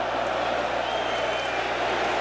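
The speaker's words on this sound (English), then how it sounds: "Ali gets a hand from the tremendous crowd here at 20th of May Stadium" A tremendous stadium crowd applauds Muhammad Ali during his heavyweight bout with George Foreman at the 20th of May Stadium in 1974, a steady, dense wash of clapping and crowd noise from far away that holds throughout.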